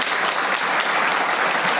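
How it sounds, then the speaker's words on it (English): A conference audience applauds at a resort event by the ocean, with a dense, steady clapping that stays loud and even throughout this short burst. "Can we give them a round of applause for last night?"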